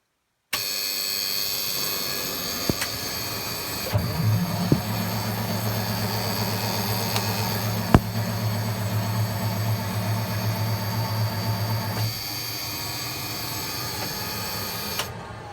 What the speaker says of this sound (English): Okay guys, I don't know how much of a cold start this can actually be, as much of an attempt to get the thing started.